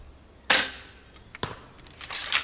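A crossbow bolt fired from a dual-wield crossbow strikes its target with a sharp, loud impact. A fainter second thud follows about a second later, then scattered clatter and rustling.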